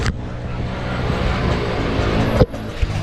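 A tempo rickshaw drives slowly around a car park, its engine giving a steady close rumble with a brief bump near the end, no talking.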